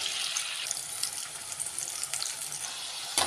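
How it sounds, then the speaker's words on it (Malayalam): Masala-coated jackfruit seeds frying in hot oil, giving a continuous close hiss and sizzle with occasional small pops, steady and alone without talk. "എണ്ണ ചൂടാക്കി എടുത്തിട്ടുണ്ട് അതിലേക്ക് നമുക്ക് ഇതെടുത്തിട്ട് വറുത്തിട്ട് കൊടുക്കാം"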